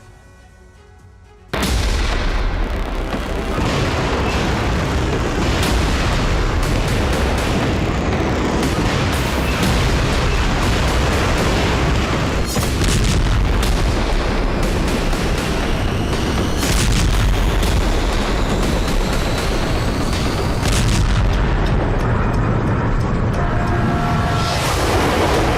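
Missile strikes and explosions in Crimea, with heavy booms and bursts of gunfire-like blasts rolling continuously at high, dense loudness after a short quiet start, with no one speaking.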